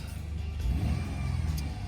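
A Jeep Liberty KJ 3.7 engine revs up after an alternator replacement, rising to a loud, steady roar and holding there for a couple of seconds.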